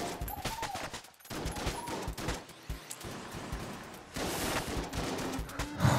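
Rapid automatic gunfire from a fully automatic weapon in the video game Enter the Gungeon, a dense, continuous stream of shots with brief gaps, loud and busy throughout with layered game effects.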